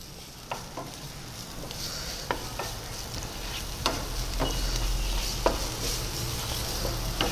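Chopped onion sautéing in a couple of teaspoons of oil in a nonstick pan, a steady close sizzle broken by the clack of a spatula stirring every second or so.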